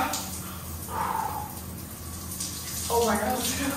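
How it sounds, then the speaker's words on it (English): A shower runs cold water in Bali, making a steady hiss and spatter with a slight surge near the end, heard close up. "I think I'm gonna take a cold shower now."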